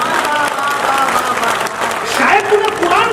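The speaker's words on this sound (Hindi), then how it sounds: "आपकी तालियां कमजोर है" An audience at a Hindi poetry recital (kavi sammelan) claps steadily throughout, a dense, fairly loud wash of applause from a crowd with some voices mixed in.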